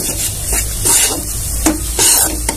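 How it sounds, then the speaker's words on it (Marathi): Maida flour roasting in ghee in a pan over a low flame, stirred with repeated scraping strokes over a steady soft sizzle, close and fairly loud with no talking. "कमी गॅसवर छान असं मैदा भाजून घ्यायचा।"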